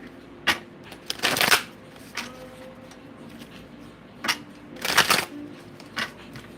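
Tarot cards being shuffled in two brisk bursts with softer card handling between, close and fairly quiet, with no talking.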